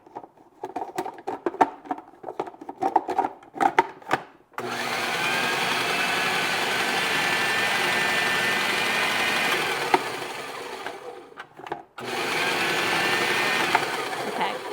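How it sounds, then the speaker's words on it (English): A small, not very powerful food processor motor whirring steadily while blending a vegetarian meatball mixture, loud and close after a few seconds of clattering handling, briefly cutting out and restarting near the end. "I don't want to blow the motor out because this isn't a super great one"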